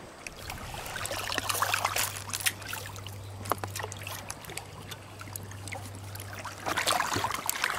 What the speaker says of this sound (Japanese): 波の音いいでしょ。